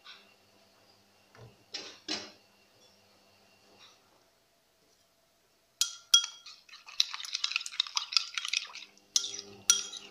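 A spoon stirring fava beans with hot water in a bowl, heard as close clinks against the bowl and wet sloshing in a busy run after a quiet stretch of faint clatter.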